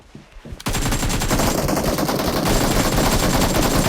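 Automatic rifle gunfire in the PUBG Mobile battle royale game: after a short quiet start, a loud, sustained burst of rapid shots rattles on continuously to the end, with no talk over it.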